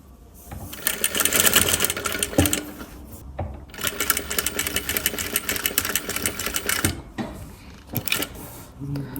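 A sewing machine stitches bias binding around a garment neckline in loud close bursts of rapid whirring, starting and stopping several times with brief pauses between runs.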